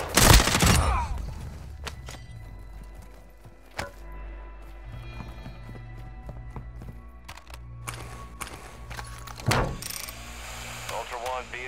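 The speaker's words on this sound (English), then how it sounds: "You are taking effective fire." Gunfire in Call of Duty: Modern Warfare II opens with a loud burst, followed by scattered shots and impacts over a low rumbling drone, with voices speaking intermittently.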